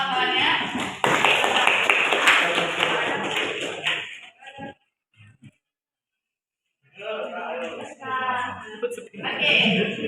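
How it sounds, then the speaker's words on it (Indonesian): Classmates in a fruit carving lesson clap their hands in a brief burst of applause, loud and close, mixed with chatter, before it dies away and voices return. "Boleh dikasih tepuk tangan kawan-kawannya."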